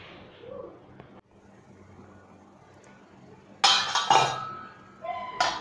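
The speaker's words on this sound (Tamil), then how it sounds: "நீங்கள் மூடி வச்சு வேக வைங்க" A lid is set over a gram flour dosa cooking in a pan, making sharp clinking clatters after a quiet sizzle, with a second clatter shortly after.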